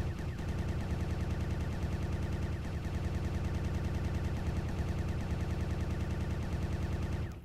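A rapid-fire cannon built from blocks in the space game StarMade shoots in a fast, even stream of shots, a continuous mechanical rattle at constant loudness for several seconds before cutting off abruptly.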